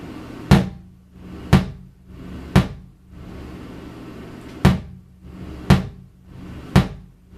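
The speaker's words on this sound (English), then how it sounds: "let's hear how this bass drum sounds" Six deep, punchy bass drum hits, spaced about a second apart with one longer gap, each decaying quickly into quiet.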